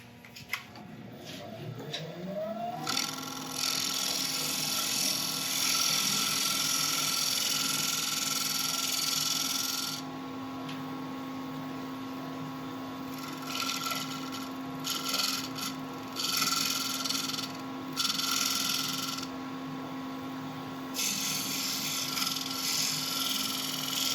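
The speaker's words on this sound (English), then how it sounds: "I'm just going to quickly cut a dovetail on here" A wood lathe whirs with a steady motor hum while a tool scrapes and rasps against spinning elm, cutting a dovetail, the cutting noise rising and easing in long stretches.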